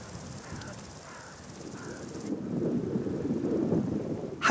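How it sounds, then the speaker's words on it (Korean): Wind gusts across a summer alpine meadow full of flowers in the Dolomites, a soft rushing roar with microphone buffeting that swells louder toward the end, a few faint bird-like chirps early on. "어디선가 꽃향기를 실은 바람이 불어옵니다."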